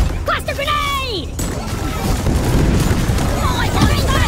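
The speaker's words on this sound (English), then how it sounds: "Cluster grenade!" Cluster grenade blasts in Deep Rock Galactic, a string of loud crashing explosions and debris rumble filling the scene after a brief electronic warble, with game effects continuing throughout.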